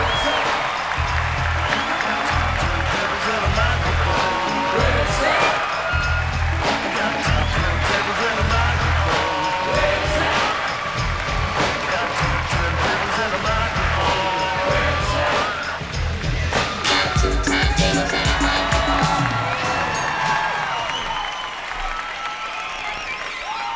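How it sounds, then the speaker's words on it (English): A large crowd at an awards show in New York City applauds and cheers loudly and continuously, with rhythmic stomping or pounding beneath the clapping and a slight easing toward the end. "The winner is, ladies and gentlemen, a big blast-off, noisy, screaming, non-stop Summit or Plummet, New York City style applause for Beck!"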